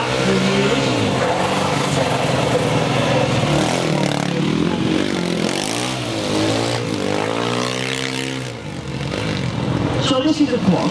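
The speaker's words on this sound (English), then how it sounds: "So this is a quad, 450cc, single cylinder, with double tires on" A 450cc single-cylinder quad bike with doubled tires at a stunt show, its engine revving and sweeping up and down in pitch, loud and close throughout under crowd-level noise and a talking voice.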